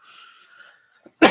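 A teacher coughs once, a sudden loud burst at the end after a stretch of faint background tone and a small click, during a classroom lesson.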